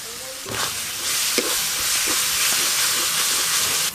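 Spice masala fries and is stirred in a pan for a Bengali katla fish kalia, giving a continuous loud sizzle and hiss with a few scraping strokes of the spoon close by.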